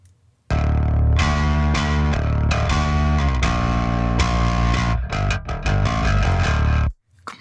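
A bass guitar DI signal from a song plays alone, dry and unprocessed, with sustained loud notes and a few quick note changes for about six seconds before stopping abruptly.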